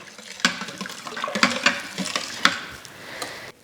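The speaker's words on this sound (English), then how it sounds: "I'm gonna give it all a stir together" A spoon stirs braised short rib sauce with red wine in an Instant Pot, making irregular scraping clinks against the pot over a soft sizzle.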